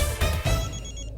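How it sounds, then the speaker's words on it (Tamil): A telephone rings loudly in a domestic scene, with two quick bursts of trilling bell tone that then fade out, and no speech. "ஒரு நிமிஷம், சம்மந்தி ஃபோன் பண்றாரு."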